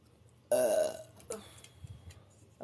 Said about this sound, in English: That's why I have to burp.